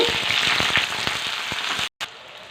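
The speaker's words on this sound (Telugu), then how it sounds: "నూనె పోసుకున్నాం ఇప్పుడు పచ్చిమిరకాయలు వేపుకున్నాం" Green chillies frying in oil in a pan, a close, bright sizzle with rapid popping crackles, cut off briefly near the end before resuming.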